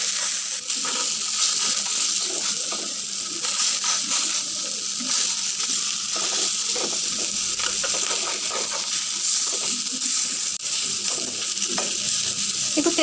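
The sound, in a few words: garlic and fish frying and being stirred in a pan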